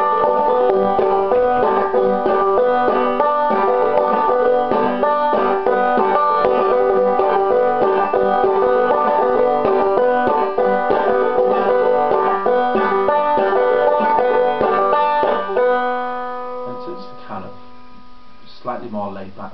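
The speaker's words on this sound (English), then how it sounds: "the kind of strumming pattern sounds a bit like this" Bright plucked banjo notes in a steady, rolling strum pattern play on for a while, then fade as a voice begins speaking.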